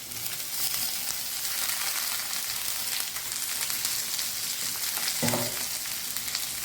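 Shredded cabbage frying in a hot pan for a Gujarati cabbage-carrot sambharo, a steady close sizzle throughout with a brief louder burst of stirring near the end.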